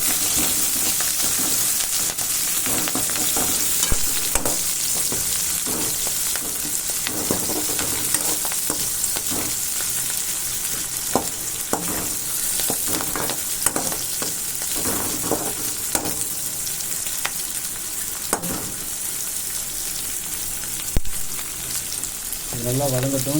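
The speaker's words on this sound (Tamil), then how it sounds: "வெங்காயத்தையும் கருவேப்பிலையும் ஒன்றா சேர்த்து போட்டுக்கலாம்." Chopped onion and curry leaves fry in hot oil for a banana-stem kootu, a loud, steady sizzle near at hand, broken by frequent spatula stirs and scrapes, with no talk over it.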